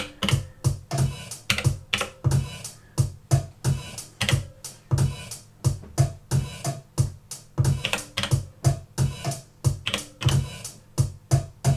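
Rapid plastic button clicks tapped in a steady stream, close and fairly quiet, as sequencer step keys on an Elektron Digitakt drum machine are pressed one after another.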